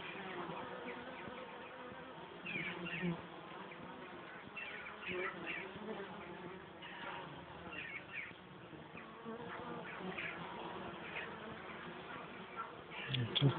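Continuous swarm-like buzzing of numerous bees nearby, fairly even in level with occasional louder passes and a rise toward the end.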